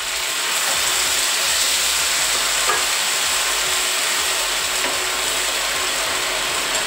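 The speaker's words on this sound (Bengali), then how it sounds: "এবার আমি এতে দেব জল।" Water is poured into a hot pan holding fried fish and spices for a fish-head curry, producing a loud, steady, close-up hiss of sizzling that continues unbroken throughout.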